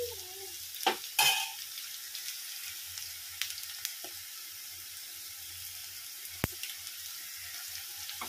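Turmeric stirred into bitter gourd frying in a pan gives a quiet, steady sizzle broken by a few sharp clicks and scrapes of the spoon against the pan, with no voices.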